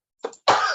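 A single sneeze up close during a public commission meeting: a short sharp intake followed by a loud, breathy burst.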